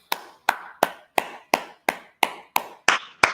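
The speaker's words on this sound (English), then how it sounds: "clap it up" Hands clap in a steady rhythm, about ten sharp, evenly spaced claps, close and clear with no talking over them; the claps are so uniform they may come from a single person or a tight group clapping in unison.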